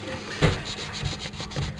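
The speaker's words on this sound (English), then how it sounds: "scrape that down to the copper" Copper pipe scraped clean during a plumbing job, a close, rough rubbing scrape in short repeated strokes with one louder grating pass near the start.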